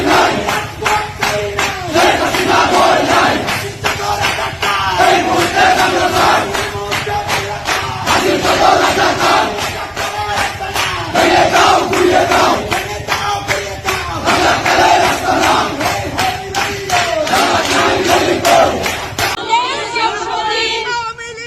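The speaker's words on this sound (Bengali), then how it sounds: "আমি 2টো মিছিলের ছোট ছোট অংশ দিচ্ছি" A crowd chants in loud, rhythmic unison at a political procession, the repeated call rising and falling in steady waves before the chanting breaks off near the end into more scattered noise.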